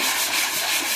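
Cabinet surface being smoothed with 150-grit sandpaper during prep for painting, a steady close, loud abrasive rasp with no pauses.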